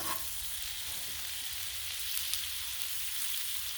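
Fingerling potatoes, given a five-minute head start in a cooker, now searing on a Blackstone griddle, giving off a steady, even hiss and crackle of frying with no voices.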